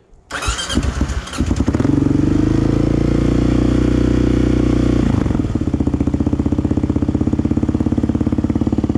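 Kawasaki KLR motorcycle with choke on being started, the starter cranking briefly before the single-cylinder engine catches and settles into a loud, close, steady thumping idle that drops slightly in pitch midway.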